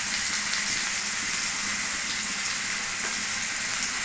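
Ginger and garlic paste sizzles in hot oil for a potato and pointed gourd curry, a steady close frying hiss that runs unbroken with no voices.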